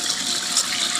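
Water surrounding a fully submerged Traxxas brushed motor during break-in, a steady, close rushing and bubbling wash with no talk.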